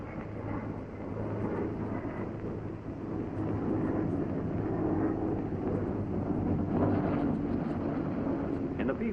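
Steady roar of a P-47 fighter plane's engine as it comes in to land, loud and continuous with wind noise, and speech partly present.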